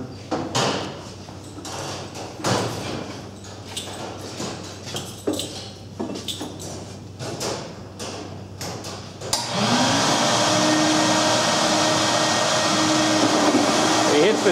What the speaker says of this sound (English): The steel tape inside the gun is pushing and pulling the brush in and out.